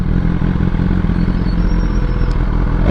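BMW S1000RR motorcycle with an engine running close by on a Berlin street, giving a loud, continuous rumbling drone with rough clatter that holds steady throughout, no voices.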